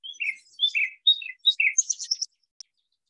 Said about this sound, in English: That's the call of the Northern Cardinal.